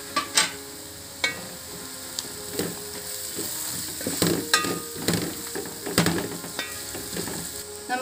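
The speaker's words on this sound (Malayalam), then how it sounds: "എന്നിട്ട് നമുക്ക് നല്ലപോലെ ഇതൊന്ന് വഴറ്റി കൊടുക്കാം" Crushed ginger and garlic sauté in a pan for a coconut milk chicken curry, a soft sizzle broken by repeated sharp scrapes and clacks of a spoon stirring against the pan, close up and without speech.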